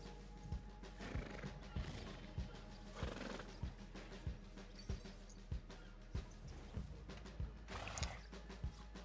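A horse in an 1898 gold rush role-play video game neighs and whinnies, with regular clip-clop hoof thuds repeating every half second or so, heard close and moderately loud.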